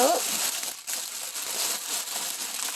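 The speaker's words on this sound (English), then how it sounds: "See if I can just rip a hole." A crinkly plastic diamond painting package is torn open by hand, giving a steady close rustle and crackle that runs throughout, with faint talk underneath.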